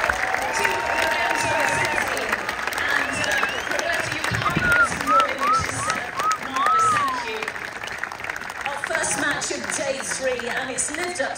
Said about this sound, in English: Keep the applause going, ladies and gents